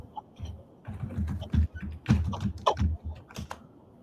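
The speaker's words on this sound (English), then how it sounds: "the keyboard is really sticky though. It sounds nice" Close typing on a sticky computer keyboard: irregular bursts of clacky keystrokes with short pauses, loud and near, with no voices over it.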